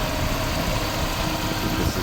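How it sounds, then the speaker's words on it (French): A Mercedes C200 W202 with its 2-litre 16-valve four-cylinder M111 engine idles in a steady, rough, noisy rumble that stays constant and close throughout. "Donc le moteur 2 litres 16"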